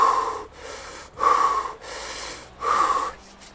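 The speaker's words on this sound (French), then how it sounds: "Je commence par prendre une bonne respiration." Deep, forceful breaths in the Wim Hof method come in a steady rhythm of three loud, rushing exhalations alternating with quieter inhalations, close and unaccompanied, before immersion in 3°C water.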